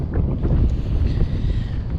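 Strong wind batters a microphone on a fishing boat on Butler Chain, a loud continuous rumbling buffet with gusting swells throughout and no voices.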